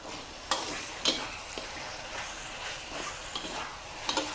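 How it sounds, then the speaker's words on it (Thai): Snakehead fish stir-fried with curry paste in a hot pan: a steady sizzling hiss broken by a few sharp utensil scrapes and clacks against the pan, heard up close with no voices. "ใส่ปลาช่อนลงไปเลยจ้า คลุกเคล้าเลยค่ะ ผัดเลยนะคะ"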